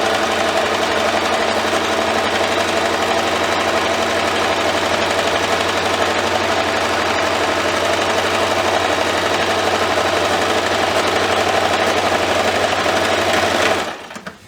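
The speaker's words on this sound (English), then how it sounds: "we'll put our needle down, turn our fabric, and keep sewing across to the other side" A sewing machine stitches fabric for a pillowcase in a fast, steady, close mechanical whir with rapid needle chatter, running continuously before stopping abruptly at the end; nobody speaks.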